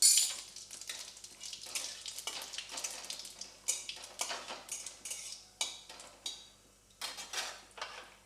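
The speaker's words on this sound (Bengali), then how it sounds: "তেলটা গরম হয়ে গেছে, এবার আমি জিরে ফোড়ন দেব।" Cumin seeds and dried chilies fry in hot oil for an aloo paneer dish, crackling and spitting under repeated scraping stirs of a utensil against the pan. The strokes come in a loose, uneven rhythm and are fairly close, with no speech.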